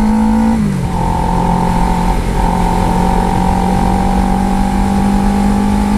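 A car pulls away on a road at night, its steady engine drone holding a low hum with a higher tone above it after a brief shift at the start, close and continuous throughout.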